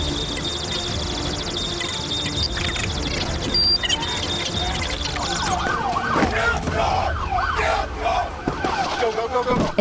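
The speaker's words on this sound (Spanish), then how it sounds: "Las sirenas lo siguieron, pero la persecución comenzó." Police car siren wailing in rising and falling sweeps during a high-speed chase, loud and close, layered over traffic and engine noise throughout.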